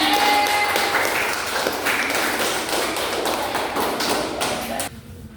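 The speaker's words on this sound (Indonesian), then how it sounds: "Tepuk tangan" Students in a classroom clap together, a loud, dense burst of hand clapping close by that runs steadily for several seconds before stopping abruptly.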